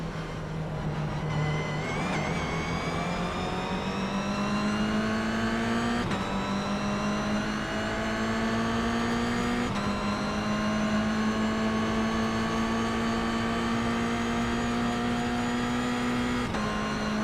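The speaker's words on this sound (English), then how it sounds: "Heading into Hatzenbach to join the train of cars, quickly catching up to Michael" Race cars in iRacing at the Nürburgring, a continuous loud engine drone with steadily rising pitch as the car accelerates, gear changes breaking the tone every few seconds, with other cars audible nearby.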